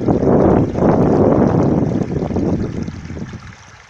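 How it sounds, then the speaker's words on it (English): A bubbling brook where salmon and trout swim gives off a steady, broad rushing wash of water. It stays close and full at first, then eases off slightly toward the end, with no voices. "Bubbling brook."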